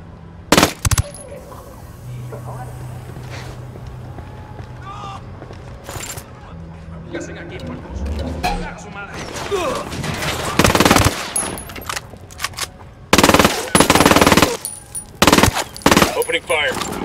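Submachine gun fire in the Ghost Recon Wildlands video game: loud repeated bursts of automatic gunfire, several short volleys in the second half, over background game ambience and faint voices.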